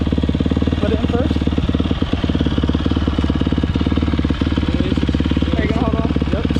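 A dirt bike engine idles loud and close with a steady, throbbing exhaust note, holding its rhythm while the rider shifts into first gear.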